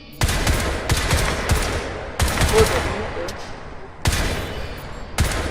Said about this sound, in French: Une cadence élevée diminue la précision des tirs malgré un meilleur contre-recul.